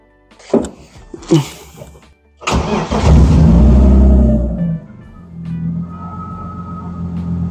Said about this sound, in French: Vous faites un démarrage pour voir s'il n'y a pas de souci, si le moteur il tourne bien